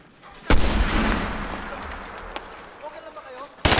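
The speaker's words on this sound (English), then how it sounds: "Stop throwing your grenades, you shit fuck!" Grenade blasts in the Medal of Honor Warfighter shooter game: one loud booming burst opens and rumbles into a long decaying roar, then a second sharp blast hits at the end, with faint sound effects in between.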